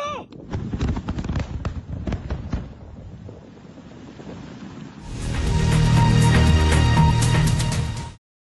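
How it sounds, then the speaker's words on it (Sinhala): Explosives set in holes drilled through thick river ice blast it apart, heard as a series of sharp booms and cracks followed by a long, loud roaring rush of debris and water, with wind noise and voices around it. "ඝන අයිස්කුට්ටි සිදුරු කර ඒ තුළට පුපුරන ද්‍රව්‍ය ඇතුළත් කිරීමෙන් විදුණු ජලය මෙලෙස පුපුරවා හැරි ආකාරය"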